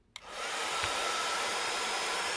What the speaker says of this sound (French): il nous faut bien entendu un pistolet à air chaud, un heat gun